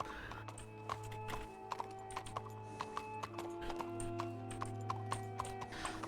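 An Arabian horse's hooves clip-clop in a steady, quick rhythm while being ridden in the RedM video game, faint and even beneath a low continuous background hum.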